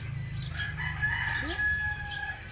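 Backyard chickens clucking while a rooster crows nearby, with short clucks and a drawn-out crow over a low, steady background hum.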